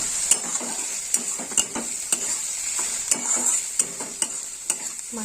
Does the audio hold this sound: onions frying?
yes